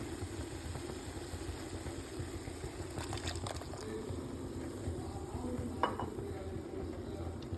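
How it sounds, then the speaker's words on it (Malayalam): Ground coconut paste stirred into a Kerala-style tomato curry in a pot, giving a soft, steady scraping and gentle sizzle throughout, with a few brighter clinks of the spoon against the pan around the middle. "നമുക്ക് കറിയിലേക്ക് അരച്ച് വെച്ച തേങ്ങ ചേർക്കാം."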